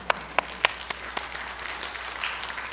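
A church lecture audience breaks into brief applause, a few sharp claps at first that blend into a short, scattered round before fading.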